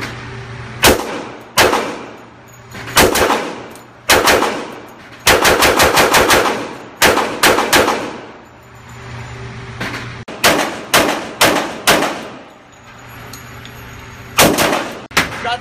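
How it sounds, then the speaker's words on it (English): A Kriss Vector .45 SBR fired at a target about 20 feet away, loud close gunshots as single shots, double taps and rapid full-auto bursts with ringing echo between them. "We're gonna try some single shots, some double taps, and then we're gonna go full on."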